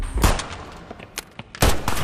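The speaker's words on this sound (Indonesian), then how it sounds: "Jun malah menembak duluan dan..." Gunshots ring out in a tense film scene where a man fires first during a standoff, two loud sharp bursts about 1.4 seconds apart with scattered clanks and movement between them.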